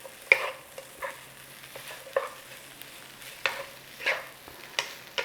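Yang Chow fried rice being stir-fried in a pan with white pepper, a spatula scraping and tossing in irregular clattering strokes over a soft, steady sizzle, close and moderately loud with no talking.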